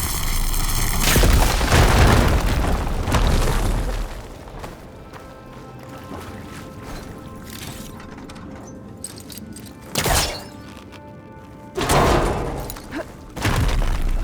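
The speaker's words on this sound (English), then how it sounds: "Should be able to blow up that fire gleam" Firegleam crystal blown open in Horizon Forbidden West, one big loud blast with a long rumbling tail and crumbling debris, followed after a quiet stretch by two more sharp thuds or impacts.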